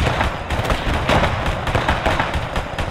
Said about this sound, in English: Keep firing, keep firing. Auto cannon's doing some bloody brilliant work.